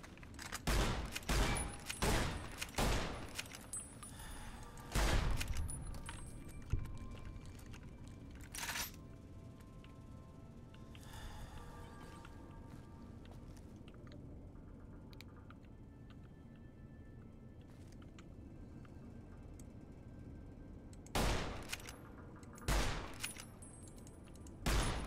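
A lever-action Cowboy Repeater rifle in Fallout: New Vegas, fired in clusters of sharp cracks early on, then a few isolated shots after a long quiet stretch and a final burst near the end.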